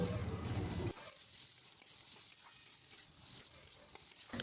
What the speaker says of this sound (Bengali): তারপর আমি মশলার মধ্যে সেদ্ধ করা আলুগুলো দিয়ে ভালো করে কষিয়ে নেব